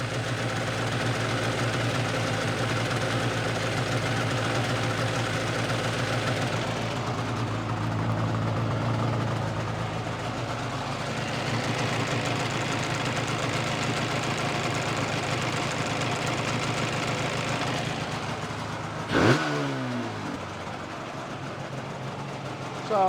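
A Yamaha RD500 motorcycle engine idling slightly high, a steady low buzzing drone that holds for over twenty seconds, then a brief blip near the end, close and constant.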